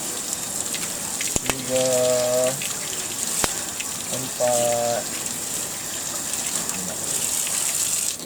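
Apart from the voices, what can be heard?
water poured for ritual washing (sertu)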